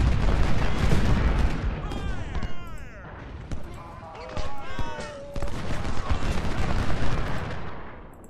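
Civil War battle in Ultimate General: Civil War: a dense, continuous roar of musketry and artillery fire with whistling shells arcing overhead. Steady rumbling volleys swell and fade across the whole stretch, loud and close.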